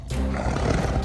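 A tiger roaring, one deep, loud, rumbling roar sustained for about a second, close and filling the space with no speech over it.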